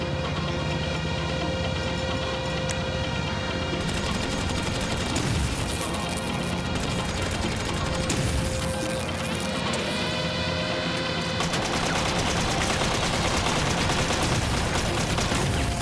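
Rapid bursts of GTA V Online gunfire crackle continuously over a dense layer of game music and effects, loud and relentless.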